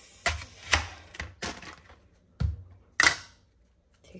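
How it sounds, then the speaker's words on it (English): A knife cutting a very large onion in half on a board in a home kitchen, with several sharp, close chops and knocks spaced irregularly, fairly quiet and with no talking. "And then we are going to cut some onions."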